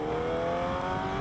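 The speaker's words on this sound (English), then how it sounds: "I just got a full Akrapovic exhaust with the Rapid Bike Evo Tuner." A motorcycle fitted with a full Akrapovic exhaust and a Rapid Bike Evo tuner revs hard, giving a loud, steady, tonal engine whine that lasts about a second.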